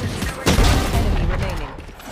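Gunfire in the Valorant video game, a loud close shot followed by a rattle of rapid shots and mechanical clatter, with players talking over it.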